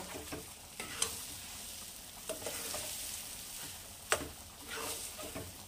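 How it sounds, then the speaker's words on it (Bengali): A pan of dal mixed with spices is stirred over low heat, giving a soft, continuous scraping and gentle sizzle, broken by a couple of sharper knocks against the pan. "ডালটাকে ভালো করে মশলার সাথে মাখিয়ে আমি শুকিয়ে নেব, একটা মন্ড তৈরি করে নেব"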